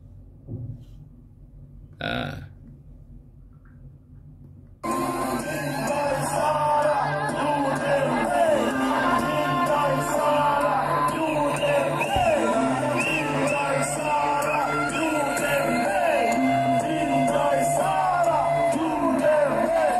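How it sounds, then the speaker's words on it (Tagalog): A crowd of protesters at a prayer rally shouts and yells together, loud and continuous after a brief quieter stretch with a few isolated sounds at the start. "Pakinggan natin yung mga sinisigaw-sigaw nila dito po."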